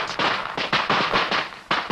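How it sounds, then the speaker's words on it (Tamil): Firecrackers burst at night near a neighbouring house in a rapid string of sharp cracks, roughly one every quarter second, loud and close with no talking. "யாரு அது இந்த நேரத்தை வெடி வெடிக்கிறது?"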